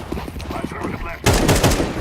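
A flashbang grenade in CS:GO 2 detonates as a sudden sharp crack that cuts through the busy low game noise before it and leaves a bright, harsh burst ringing out.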